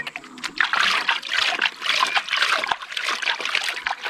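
Tap water runs and splashes over a hydro-dipped carbon fiber paint piece, a steady close trickle and spatter with uneven surges, no talk over it.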